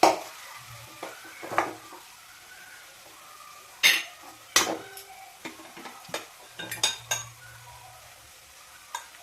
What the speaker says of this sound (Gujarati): હવે આપણે હલાવશું